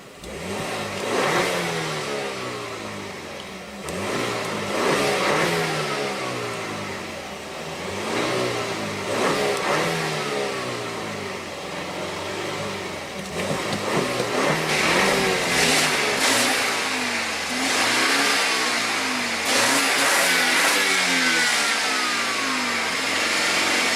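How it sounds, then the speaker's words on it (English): The engine of a 2017 BMW X3 is revved repeatedly, rising and falling in several sweeps over a steady idle, loud and close throughout with no talking. "let's go ahead and rev it up"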